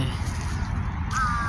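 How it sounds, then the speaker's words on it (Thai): Crows caw at a gathering of many birds, harsh calls sounding close and fairly loud over a low background rumble, one sharper cry rising near the end. "ดูมองไปเห็นอีกาครับ"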